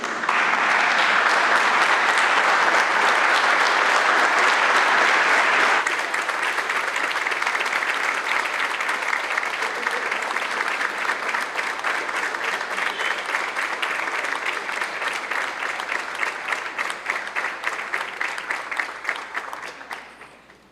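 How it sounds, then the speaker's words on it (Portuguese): Warm applause from a ceremony audience welcoming the honoree at a formal city council session, loud, dense clapping that holds steady for several seconds, then thins slightly and fades out near the end. "vamos então agora receber com uma calorosa salva de palmas o homenageado desta noite, senhor José Edivar Simões"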